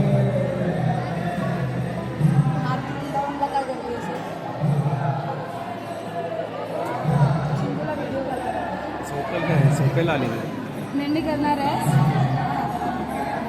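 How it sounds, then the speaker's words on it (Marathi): A busy ISKCON temple crowd fills the background with steady murmur and hubbub, while a nearby voice talks over it at intervals. "आज खूप गर्दी आहे"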